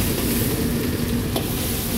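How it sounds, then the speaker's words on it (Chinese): Chopped pickled chilies with garlic, scallion and ginger stir-frying in a hot oiled wok, a loud, steady close sizzle with a brief scrape partway through. "然後給它炒香"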